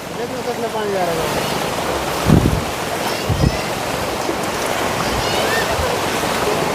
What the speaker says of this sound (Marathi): अगदी जोरदार पाऊस सुरू आहे